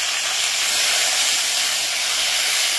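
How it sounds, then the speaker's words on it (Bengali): Potatoes and capsicum cut into long strips fry in a pan, giving a steady, loud, close sizzling hiss that runs unbroken throughout with no voices. "যতক্ষণে আলু আর ক্যাপসিকামটা ভাজা হচ্ছে"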